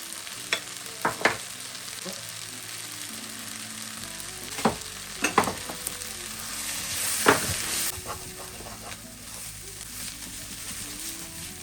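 Chicken biryani masala, spiced with chicken masala powder, fries in a pan with a constant close sizzle, punctuated by occasional spoon scrapes and knocks as it is stirred.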